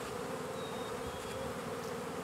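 Honeybees buzz steadily at an open hive during a beekeeping class, a dense continuous drone close by with no voices over it.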